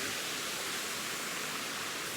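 A waterfall roars as a steady, dense wash of falling water, loud and unbroken, with no voices over it.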